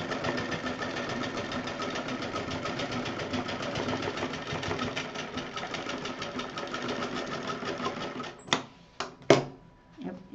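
A sewing machine stitches a straight seam on a handmade purse, giving a steady, rapid mechanical whirr that runs for about eight seconds, followed by a few sharp clicks as it stops.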